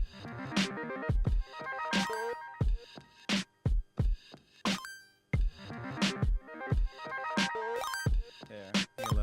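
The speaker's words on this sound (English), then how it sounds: "This is the sound of you guys getting coins." Bright, chiming coin-pickup blips sound again and again inside a homemade music session, a quick, uneven run of short tonal hits at moderate loudness with no talking.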